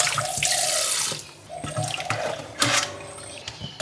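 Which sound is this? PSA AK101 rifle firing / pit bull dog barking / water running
water running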